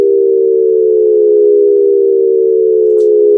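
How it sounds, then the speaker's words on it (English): A falling Shepard tone synthesized in Serum: a steady, loud stack of sine-like harmonics that seems to glide endlessly downward, sustained alone for the whole stretch with a brief faint click near the end. "These are called Shepard tones."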